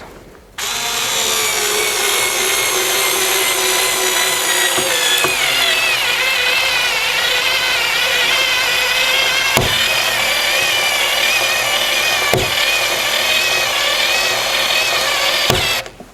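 An INTERTOOL WT-0300 cordless screwdriver drives a screw into wood, a steady motor whir running unbroken for about fifteen seconds with a few sharp clicks along the way, and no voices.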